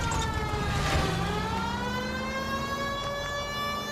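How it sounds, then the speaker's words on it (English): A loud police siren in the video game L.A. Noire wails steadily, its pitch sliding downward, over a constant rumbling engine noise. "I have a siren! And I'm not afraid to use it!"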